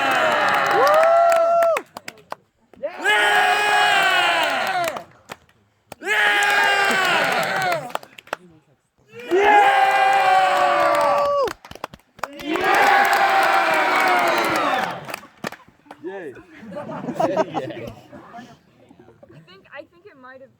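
A large crowd at an evening shindig cheers and shouts loudly in five long bursts, each a few seconds long with short pauses between, voting for the red team, with scattered clapping and chatter in the quieter tail.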